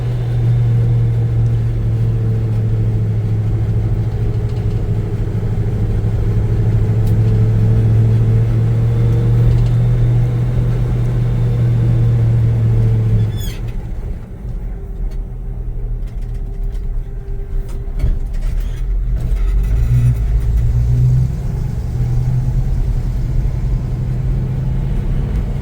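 A 1966 Chevy C10 pickup with a three-on-the-tree manual runs and drives at dusk, its engine a steady loud low rumble throughout, shifting in tone partway as it moves off, with no talk over it.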